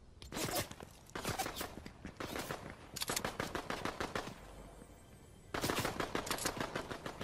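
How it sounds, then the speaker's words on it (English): Rapid bursts of automatic gunfire from a PS5 shooter video game, several separate volleys with short pauses between them, fairly quiet in the mix. "He's shooting at me."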